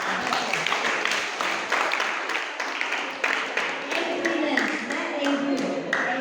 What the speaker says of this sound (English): Let's all clap for Silo.